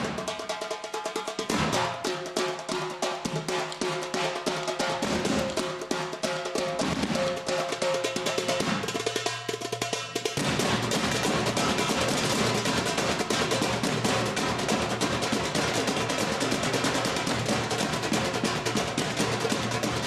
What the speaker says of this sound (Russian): Участники этого коллектива будут играть на барабанах.